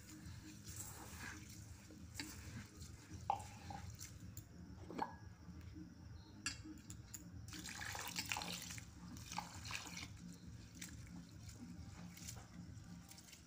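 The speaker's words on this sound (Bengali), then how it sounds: "এবার চাল ও ডালটা জল দিয়ে ভালো করে ধুয়ে নিতে হবে।" Rice and lentils get rinsed in water, with gentle sloshing, trickling and dripping that carries on steadily at low volume, close by and with no voices.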